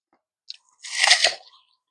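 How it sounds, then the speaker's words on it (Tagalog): A single close, crisp crunch of teeth biting into an apple, preceded by a tiny click, then quiet. "Kagat-kagatin natin hanggang lumabas yung tubig."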